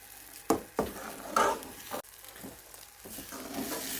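Egg and semolina halwa being stirred in a pan over a medium flame: a few sharp scraping strokes and soft sizzling, fairly close and quiet, with no talking.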